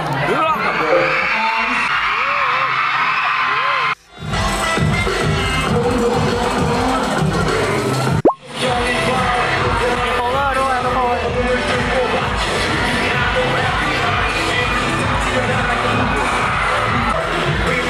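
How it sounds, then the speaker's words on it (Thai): A fan event crowd at a WannaOne Produce fair in Thailand screams and cheers in sustained loud waves, with an amplified voice calling out over the noise and two brief dropouts. "ผมขอเสียงกรีดร้อง ดังๆร้องกับผม"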